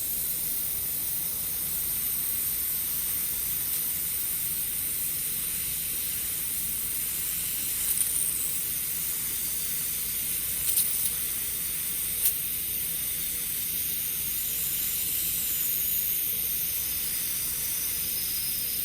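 An airbrush sprays thin paint for fish scales through a reusable stencil, giving a steady, soft high hiss throughout with a few faint sputtering spits.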